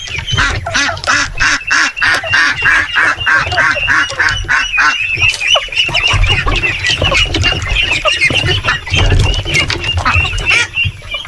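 An escaped heritage chicken on a mini farm squawks loudly and repeatedly in close, agitated bursts, with other fowl honking and clucking around it and only scattered bits of background activity.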